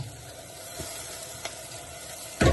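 Onions cook in a pan for pumpkin soup with a steady low sizzle, broken by a couple of soft stirring taps and a louder burst of frying near the end.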